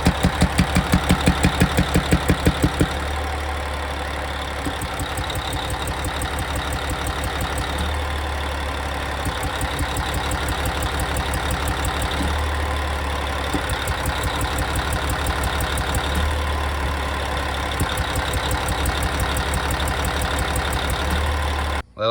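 A Caterpillar 3406E diesel engine, mid-rebuild with suspect injector solenoids, runs at a rough steady idle with a pronounced knocking beat and periodic pulsing, loud and close with no talk.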